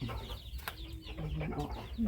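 Chickens cluck softly as they go into a farmyard coop, short nearby calls and murmurs over a low rustling background.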